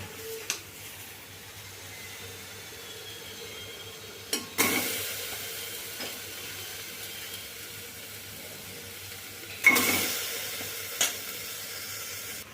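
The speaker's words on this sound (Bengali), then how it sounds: "কুকারের মধ্যে এখন আমি এই মাটনটা দিয়ে দেব" Mutton going into a hot pressure cooker with a little oil gives two sharp bursts of sizzling, each fading to a quieter hiss, with a few light clatters between them and no voices.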